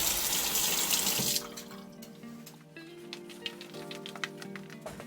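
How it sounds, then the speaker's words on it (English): Hot water gushes from a tap for about a second and a half, then stops, leaving faint drips and clinks in a quieter room. "I use hot tap water"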